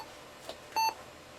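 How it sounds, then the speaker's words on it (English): A short electronic beep from a Compaq Armada Pentium MMX laptop rings out clearly after a faint blip, a single steady tone in an otherwise quiet room. "That's a lot of beeping."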